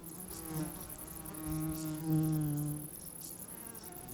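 A wild bee gathering pollen buzzes faintly in flight, its drone wavering up and down in pitch and loudness against a quiet outdoor background.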